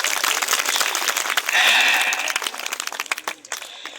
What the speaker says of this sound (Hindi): अरे थोड़ा ताली बजा दिया करो